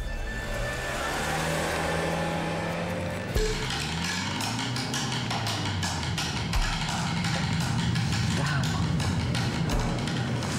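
A green car full of children pulls away, its engine revving and shifting through rising and falling tones, with clunks and rattling taps over a low rumble at moderate distance.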